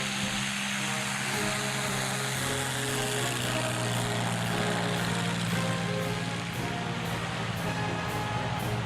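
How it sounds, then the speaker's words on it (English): World War II bombers in flight, including a damaged Boston, their engines droning in a steady, loud, continuous propeller hum with a faint rhythmic pulsing throughout. "Unteroffizier Hans Rafnau began a pursuit of the escaping bombers."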